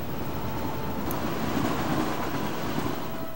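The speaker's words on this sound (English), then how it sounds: "And there's a magic train chugging along the train track." A magic train in the Kingdom Hearts 2 video game chugs along its track, a steady, continuous rolling rumble that holds at an even level throughout, with no voices over it.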